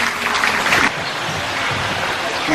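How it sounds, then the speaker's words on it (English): Audience applause at a Buddhist temple's 100th anniversary ceremony in Sentul, a broad wash of clapping that is strongest at first and then thins and settles into a steady patter. "Please give a round of applause to Mr."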